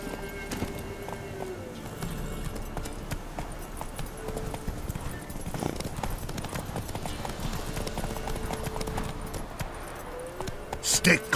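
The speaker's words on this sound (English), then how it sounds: "Horses!" Horse hooves clip-clop in a rough rhythm in The Witcher 3: Wild Hunt, joined by a brief whinny, with voices speaking over the galloping and a louder burst near the end.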